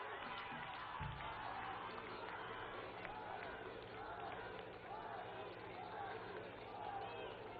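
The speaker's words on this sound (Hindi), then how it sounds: "हम सब बहनें जोरदार तालियों के साथ माननीय प्रधानमंत्री जी का अभिनंदन करें" An audience of women at a public event honouring Prime Minister Narendra Modi gives loud, sustained applause, a dense continuous clatter of many hands filling the hall, with voices speaking over it.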